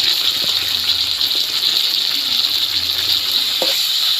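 Koi fish curry with potatoes cooks down in a pan, letting off a loud, steady sizzle with a bubbling hiss. A few faint clinks sound through it, and no one talks.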